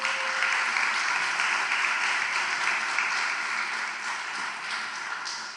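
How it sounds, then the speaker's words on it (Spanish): A church congregation applauds together during a Spanish-language service, sustained, dense clapping that fills the room evenly and tapers slightly toward the end. "Denle un aplauso al Señor entonces."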